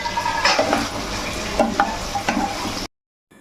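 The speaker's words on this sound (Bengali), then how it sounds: "এবার ক্যাপসিকামগুলো দিয়ে দিচ্ছি, সঙ্গে টমেটোগুলোও দিয়ে দিলাম।" Capsicum and tomatoes stir-fry in a pan with lightly fried onion for chilli chicken. A steady close sizzle is broken by scraping stirs, then the sound cuts to silence.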